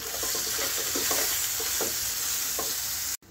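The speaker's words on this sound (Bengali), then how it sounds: "বেগুনটা ভালো করে ভেজে নেব" Eggplant sizzling and frying in a pan with salt and turmeric, a steady close hiss with intermittent stirring scrapes, cutting off briefly near the end.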